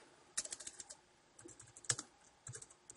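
Fingers typing on a MacBook Pro keyboard, a quick burst of crisp key clicks, a pause, then two more short bursts, close and fairly quiet.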